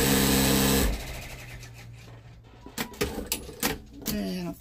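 Home sewing machine stitching a Santa bag; a loud steady whir at first, then quieter with bursts of clicks and short mechanical rattles near the machine, with no talking.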